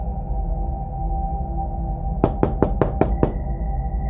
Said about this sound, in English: There was a knock on my door about an hour later.